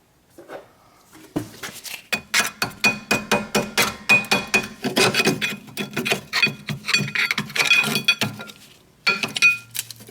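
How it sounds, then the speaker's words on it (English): Worn brake pads being pried out of a rear caliper on a 2004 Hyundai Sonata, a rapid series of sharp metallic clinks and scraping rattles, close and fairly loud, with no talking. "And I'm gonna remove my brake pads."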